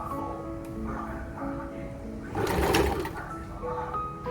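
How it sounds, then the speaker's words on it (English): Home sewing machine stitching a zigzag to secure fabric wound around rope, a quiet rapid mechanical whir with faint ticking and a brief louder burst midway. "Wind it around the rope and zigzag a few stitches to hold it in place."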